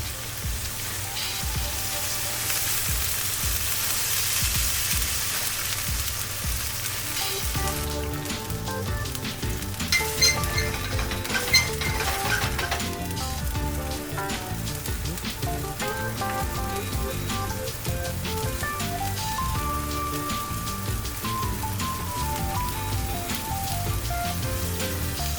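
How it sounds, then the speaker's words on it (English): Garlic butter prawns sear over high heat in a hot pan, a steady, dense sizzle and crackle running the whole time, with background music underneath. "We sear them until they get a nice golden color and we turn up the heat."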